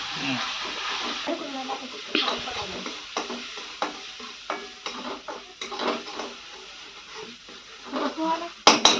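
Onion, tomato and garlic paste fries in hot oil with a steady sizzle, while a spoon repeatedly stirs and scrapes the pan in uneven bursts.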